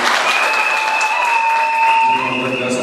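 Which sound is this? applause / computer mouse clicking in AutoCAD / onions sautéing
applause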